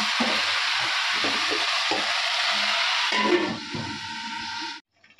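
Spices frying in a pan for a Bengali bhetki fish dish, a steady close sizzle with stirring scrapes throughout, the frying cutting off abruptly near the end.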